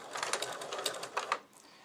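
A sewing machine backstitches to lock the stitch at the start of a row of binding, giving close, quick mechanical whirring bursts that stop and start over about two seconds.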